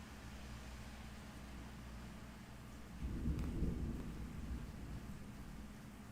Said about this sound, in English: Oh, very nice rain going on.